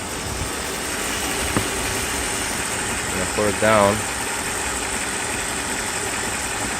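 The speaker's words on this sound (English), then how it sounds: "now I want to show you that the engine is not misfiring anymore" A 1994 Mercedes S420 engine idles with a smooth, steady hum and no stumbling, close by and continuous, while someone speaks briefly and a light knock or clatter sounds partway through.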